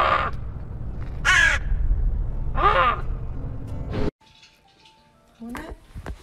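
A crow caws in three harsh, separate calls outdoors, fairly close and loud, followed by quieter background sounds and a brief voice near the end.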